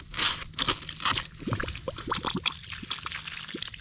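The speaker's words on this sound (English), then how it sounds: "I need to flush this tank out because what's happening now is it's flushing down through the hose" A hose flushes green algae out of a water tank on a small dairy farm, heard close up as gurgling, trickling water with irregular squishy spurts and small bubbling pops. No one speaks.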